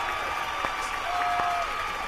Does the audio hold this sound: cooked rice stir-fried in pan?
no